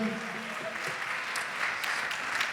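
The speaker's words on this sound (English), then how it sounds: "Give them all a nice big round of applause." Applause from an audience at a college scholarship announcement, a steady wash of many hands clapping at moderate volume, with faint voices mixed in.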